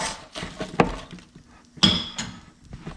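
Potatoes are tossed in a metal air fryer basket, giving two distinct clattering clinks with a shorter rattle between them and softer shuffling scrapes, close and fairly loud.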